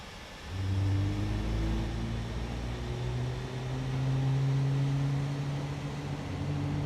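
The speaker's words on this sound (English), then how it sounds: "So engine mode selected to ignition start and engine 2 start." Airbus A32NX airliner engine spooling up during an ignition start in Microsoft Flight Simulator: a low rumbling whine with rising tonal hums that climbs and steadies over several seconds, moderately quiet with no talk.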